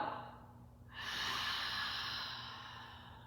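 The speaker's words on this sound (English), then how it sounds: "Take a breath in here. And a breath out." A slow, soft exhale during a beginner neck and shoulder yoga stretch swells gently over a few seconds and then fades, quiet and close with no talking.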